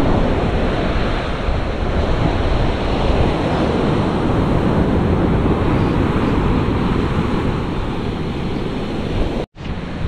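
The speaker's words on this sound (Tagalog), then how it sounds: "Medyo malalaki talaga ang alon at saka hangin." Big sea waves and strong typhoon wind roar without a break, a loud dense rush of surf and gusts that drops out for an instant near the end.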